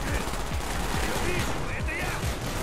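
Rapid bursts of Call of Duty: Black Ops gunfire crackle in quick succession, with a low voice murmuring faintly underneath.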